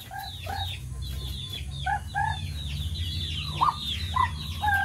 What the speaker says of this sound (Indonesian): Manggil ayam.